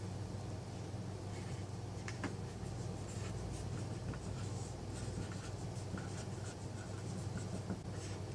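Marker writing on a classroom board during a biology lecture, faint squeaky strokes and taps scattered over a quiet, steady room hum.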